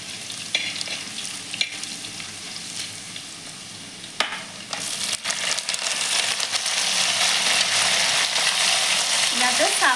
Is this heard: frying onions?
yes